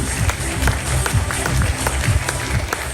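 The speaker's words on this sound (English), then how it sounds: "May we have a round of applause, please." A crowd applauds at a boxing press conference in Kuala Lumpur, a dense steady wash of many clapping hands throughout, fairly loud and close.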